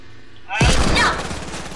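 Rapid SMG gunfire in the video game Fortnite bursts out suddenly and loudly after a quiet moment, a dense close volley that rings off, with voices talking around it.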